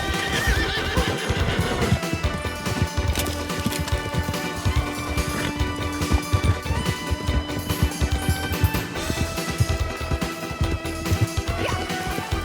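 Horses in the Red Dead Online video game whinny and neigh repeatedly over a steady clatter of galloping hooves, loud and close, with occasional crashing thuds mixed into a dense, busy game soundscape and no talk.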